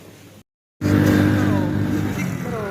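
A motorcycle engine runs loud and close after a brief cut, holding a steady, throaty drone with a slight rise in pitch as it revs.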